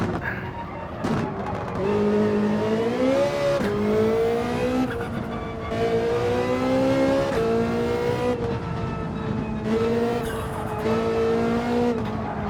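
A Ferrari 458 Italia in a racing game, its engine note rising and falling through repeated revs and gear changes, loud and steady with tire squeal hinted under the whine.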